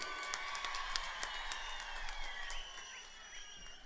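Crowd applause at a public political address in Darjeeling, a steady dense clatter of many hands clapping throughout, fairly distant and continuous with no pauses.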